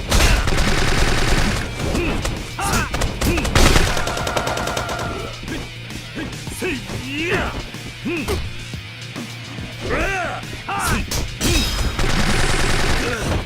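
Rapid gunfire bursts and crashing impacts from Yakuza 3 combat, dense and loud, mixed with game music and grunting voices throughout.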